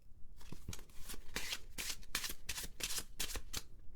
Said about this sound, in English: a shuffled deck of cards